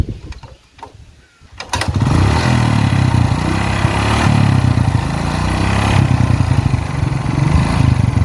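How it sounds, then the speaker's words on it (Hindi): A heavily damaged Yamaha Crux R motorcycle, unstarted for three years, sputters after a few cold kick-start thumps, then catches and runs with a loud, steady rough drone up close. "3 साल के बाद इस बाइक को किकिंग हो रहा है"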